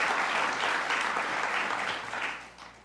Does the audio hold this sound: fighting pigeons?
no